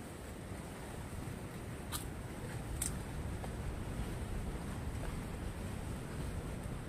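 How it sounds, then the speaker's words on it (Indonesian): Ocean surf at Pulau Hanoman on the Malang coast rumbles in a continuous, heavy roar of crashing waves, mixed with wind buffeting the microphone, with no voices. "dari sini suaranya ombaknya tuh menggelegar-gelegar ya"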